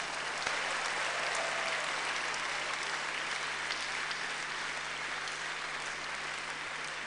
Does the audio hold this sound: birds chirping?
no